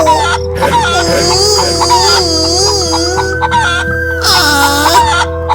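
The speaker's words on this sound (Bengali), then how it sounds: "বাড়ির উঠোনে এসে দেখে খাঁচায় কিছু মুরগি রাখা" Caged chickens cluck and squawk together at close range, loud and continuous, with a rooster-like call rising among them over a steady low hum.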